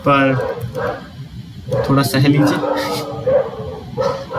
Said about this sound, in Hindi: कुत्ते भौंक रहे हैं पर ज़्यादा ध्यान मत दो उनको